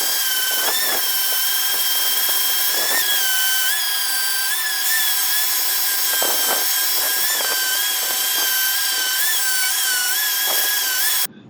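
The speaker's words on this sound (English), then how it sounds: "I used a grinder to remove the markers, which worked well and quickly" A high-pitched angle grinder whines continuously, its pitch dipping slightly as it bites into a walnut slab, loud and close throughout.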